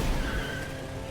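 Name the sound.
car driving in an open-world anime video game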